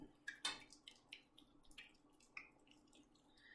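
Water drips and splashes softly in irregular small bursts as a natural soap bar made with sunflower seed oil is wetted, quiet and close with no talking.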